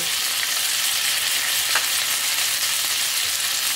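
Diced capsicum and onion fry in a pan, a loud, continuous close-up sizzle with a brief utensil scrape near the middle and no speech.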